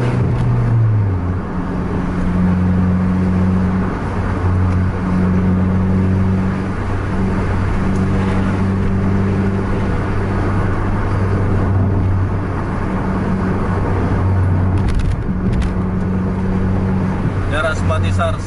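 A bus drives along the road with its engine running at a relaxed, steady drone close by, with occasional small shifts in pitch and road noise throughout.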